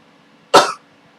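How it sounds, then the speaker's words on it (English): A single sharp cough, close and distinct, rising suddenly and trailing off quickly against a quiet background, muffled as if into a handkerchief. "Mr. Poe coughed into his handkerchief"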